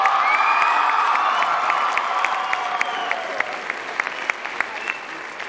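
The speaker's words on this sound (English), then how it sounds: "thank you, audience, for helping our judges with your clapping" Audience clapping fills a school talent show hall after a musical act, a dense steady wash of applause with scattered whoops and cheers from children, loud and continuous, fading slightly toward the end.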